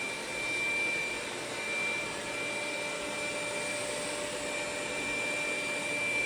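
A Dreame Z10 Pro vacuum runs on maximum suction, a constant high-pitched motor whine with a steady airy roar, close and unbroken, with no talking.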